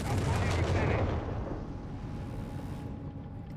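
Combat in Company of Heroes 3: a dense, close volley of gunfire and booming impacts that dies away into a fainter, lingering rumble, with a voice briefly audible.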